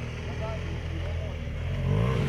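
A BMW GS motorcycle engine idles steadily at an off-road riding training session near a sand pit, a low rumbling drone running continuously under nearby talking.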